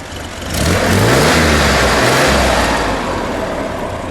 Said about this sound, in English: Let's give it one more rev.